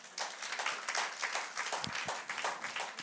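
Church congregation applauding during a Pentecost online service, dense steady clapping from many hands close by with no talk, lasting about three seconds.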